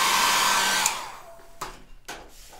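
Hair dryer blowing over a watercolor painting, a loud steady whir for nearly a second before switching off, leaving quiet handling clicks and knocks.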